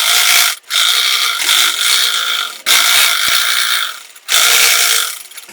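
A sewing machine stitches a strip of cloth for frills in three rapid bursts, a loud close mechanical whirring with short pauses between runs.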